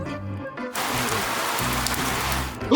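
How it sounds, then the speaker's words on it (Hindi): Steady, loud hiss of rain pouring down from an upturned umbrella in a Spider-Man video game, following a brief quieter stretch and running on without pause. "इसमें से तो बारिश हो रही है।"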